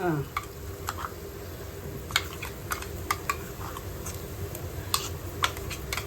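Onions frying in a pan with a freshly added garam masala paste of poppy seeds, coconut and coriander, giving a steady low sizzle broken by sharp clicks and scrapes of a spoon stirring against the pan, with no talking.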